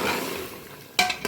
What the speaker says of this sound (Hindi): साथ ही हम इसको गोश्त में शामिल कर देंगे और गोश्त के साथ ही अरबियों की भुनाई कर लेंगे